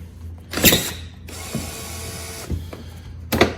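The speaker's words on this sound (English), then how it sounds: "I need to unscrew it." Small screw being backed out of the plastic front bumper cover of a Hyundai Veloster N with a hand tool, giving short ratcheting clicks and creaks between louder handling knocks, close and without talk.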